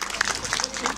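Applause from the audience at a school annual day celebration, a short burst of clapping mixed with crowd voices and cheering.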